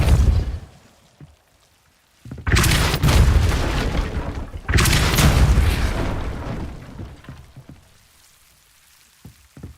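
A Depulso spell cast in Hogwarts Legacy bursts out as two loud, booming blasts with a crackling, sizzling tail, separated by a short gap and followed by fainter scattered game sounds.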